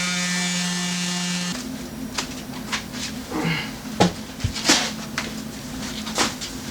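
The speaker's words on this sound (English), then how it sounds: "So basically sand, inspect, see if there's some place that needs a little bit more. Sand some more until it's right." An electric sander starts with a steady motor whine, then drops lower as it works the edges of a Nidacore honeycomb panel, with scattered knocks and scrapes from handling the piece nearby.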